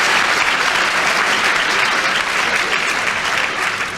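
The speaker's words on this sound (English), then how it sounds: "He deserved that round of applause" Studio audience applause at a panel game show, a loud, even, continuous roar of clapping from many hands, sustained throughout with no voices standing out.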